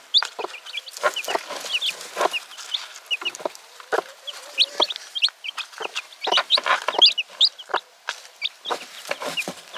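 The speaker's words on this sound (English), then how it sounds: "this is one of the new hens that wants to lay in here" Many hens cluck busily inside a shed, a dense run of overlapping, close clucks and murmurs with occasional sharper calls, continuing without pause.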